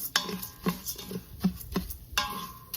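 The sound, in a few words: stirring Mexican rice in a pot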